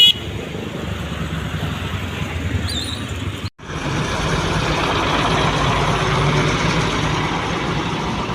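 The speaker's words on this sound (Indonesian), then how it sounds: "soalnya itu yang spesial masih pakai knalpot ngorok ya, udah jarang banget tuh" A bus engine fitted with a loud 'ngorok' aftermarket exhaust rumbles steadily nearby, with a brief cut partway through before the deep idle-like drone returns, continuing alone at constant loudness.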